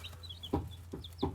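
Baby chicks cluck in three short, soft bursts close by, with faint higher peeps in between, in a quiet backyard farm setting.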